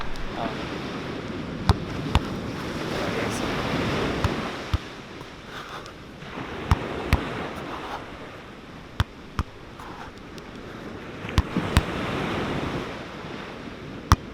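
Ocean surf rolls onto a beach under constant wind buffeting the microphone, with swelling washes of waves and scattered sharp clicks, no talking.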